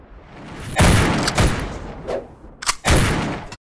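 Several gunshots ring out, loud and close, a burst of overlapping blasts followed by a pause and two more sharp reports with booming tails.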